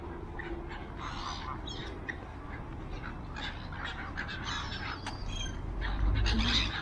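Geese and ducks call in Western Springs park in Auckland, scattered honks and quacks rising over steady outdoor ambience, with a louder burst of calls near the end.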